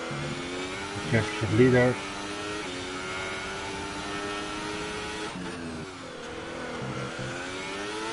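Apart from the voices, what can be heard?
F1 race car engine on a hot lap, from video game F1 2018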